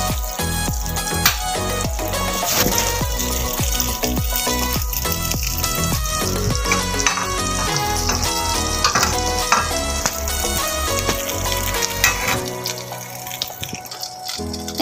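Onion sautéing in butter in a pan for vegetarian scrambled tofu, a steady, close sizzle and frying hiss running throughout with occasional stirring clatter, loud and continuous without talk.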